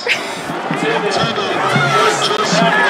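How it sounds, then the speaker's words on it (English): Loud crowd roaring at a high school football game between Memorial and Liberty, a steady wall of cheering and chatter under continuous play-by-play commentary. "The crowd is loud as we can tell"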